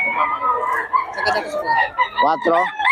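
A Sweater Kelso rooster at a market gives a harsh, drawn-out crow amid clucking fowl and nearby voices, loud and close.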